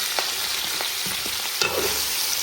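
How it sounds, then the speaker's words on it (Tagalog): Corned beef spaghetti sauce with condensed milk sizzles loudly in a pan as a spoon stirs and scrapes it, giving a few soft knocks against the steady hiss. "Guys, magluluto na tayo ng ating sauce."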